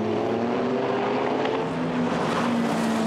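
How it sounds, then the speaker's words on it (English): GT race cars brake into the first corner at Zandvoort, engines droning loudly together with overlapping tonal whines that shift in pitch across a few seconds. "Onto the brakes into the 1st corner."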